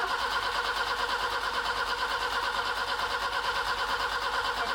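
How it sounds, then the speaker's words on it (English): Car fuel pump running as a steady, unbroken electric whine and hum, fairly loud and close, holding level throughout with no other sounds over it. "So it is the fuel pump."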